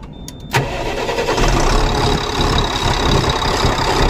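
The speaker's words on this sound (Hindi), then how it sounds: "चलो स्टार्ट करो भाई गाड़ी" Tata BS4 common rail diesel truck engine cranks briefly and catches, then settles into a loud, rough, knocking idle that continues steadily for several seconds.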